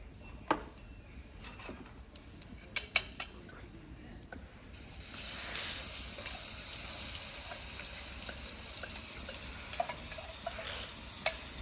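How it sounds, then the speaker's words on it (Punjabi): Ground ginger, garlic and onion masala paste fries in a pan in a Punjabi village kitchen; scattered scraping stirs and clicks at first, then a steady, moderately loud sizzle takes over and continues under occasional utensil taps. "ਅੱਗ ਬਹੁਤ ਹੋ ਗਈ ਮਸਾਲੇ ਤੋਂ 2 ਮਿੰਟ ਤੱਕ ਭੁੱਜ ਗਈ"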